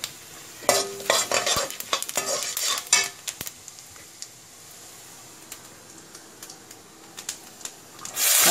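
Lentils, cumin and spices tempering in hot oil for rava kichadi, crackling and sizzling in bursts of sharp pops with stirring and utensil clatter, loud early, quieter mid-way, then flaring again at the end.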